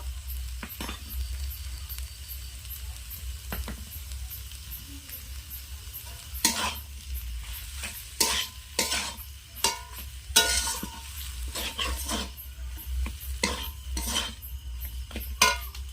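Potatoes frying with ground spices in a pan, a constant low sizzle broken by repeated scraping and clinking stirs of a utensil against the pan.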